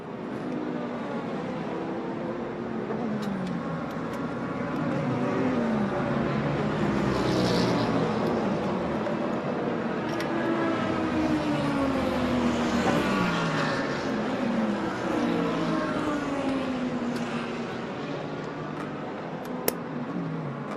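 Race cars lapping during an IMSA Roar Before the 24 practice session at the track, engines droning continuously at a distance with several overlapping passes rising and falling in pitch, steady and moderately loud throughout.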